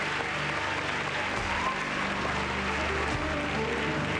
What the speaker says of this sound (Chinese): 掌声来欢迎